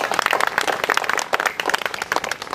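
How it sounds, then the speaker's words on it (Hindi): A crowd at a Gopashtami gathering claps to welcome guests, loud uneven bursts of hand claps at close range, distinct individual claps standing out throughout the short round, with no talking. "सब लोग तालियां बजा के इन लोगों का स्वागत करिए।"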